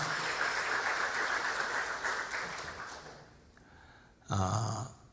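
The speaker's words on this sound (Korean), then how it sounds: "박수로 환영하여 주시기 바랍니다." Warm applause from a church congregation at a Sunday worship service welcoming visiting members, a dense wash of clapping that fades out, followed by a short burst of voices or a muffled sound near the end.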